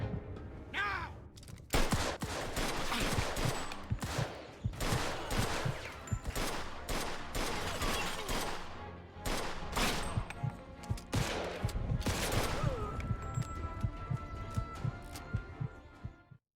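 Dense, sustained gunfire from the Mafia 2 video game, with rapid bursts and single loud shots piling up over one another, close and loud across the whole stretch with no speech.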